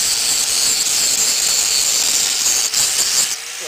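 An angle grinder takes the high spots off an old weld on metal, a loud, steady bright hiss-whine that runs continuously with one brief dip near the end.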